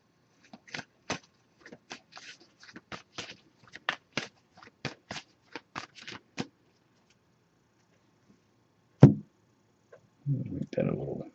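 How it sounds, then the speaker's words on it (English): Tarot and oracle cards are shuffled by hand in a quick burst of crisp, snapping clicks and flutters, followed by a lull, one sharp tap and a rustle as the deck is settled. "So I'm just going to give this a few shuffles now."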